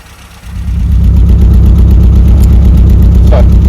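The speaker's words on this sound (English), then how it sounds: "we're not running smoothly. We have a misfire." Classic Mini engine idling rough with a regular misfire, a loud close rumbling chug with a steady repeating stumble in its beat, heard alone after a brief quieter start.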